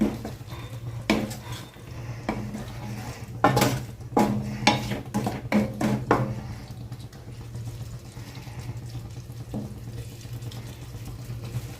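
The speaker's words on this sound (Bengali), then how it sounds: "এবার ভাজা ক্যাপসিকাম আর ভাজা পেঁয়াজ দিয়ে দিলাম। এবার মশলার সাথে ভালোভাবে মিশিয়ে দিচ্ছি।" Spatula scraping and clattering against a wok while fried capsicum and onion are mixed with spices, a cluster of sharp metallic strokes in the middle over a steady low hum, then quieter.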